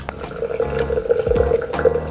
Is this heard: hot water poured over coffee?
yes